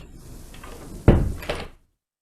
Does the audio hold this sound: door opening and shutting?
yes